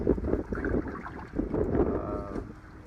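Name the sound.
wind blowing on the Parker River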